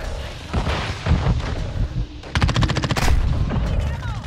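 An MPX submachine gun in the video game Modern Warfare 2 fires repeated rapid automatic bursts, loud and close, with shorter volleys leading into a longer sustained stream of shots.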